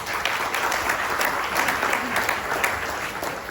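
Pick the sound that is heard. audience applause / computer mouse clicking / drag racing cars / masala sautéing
audience applause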